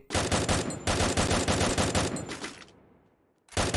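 Loud, close rapid-fire gunfire from a battle-royale shooting game, several fast automatic bursts that stop briefly, then resume abruptly.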